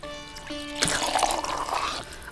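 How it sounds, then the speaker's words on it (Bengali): Water pours from a vessel into a pot of vegetables, potato, cauliflower and foxtail millet for khichuri, a close splashing gush that starts abruptly and keeps flowing, preceded by a faint tonal hum. "এবার আমি পরিমাণ মতো জল দিয়ে দিচ্ছি।"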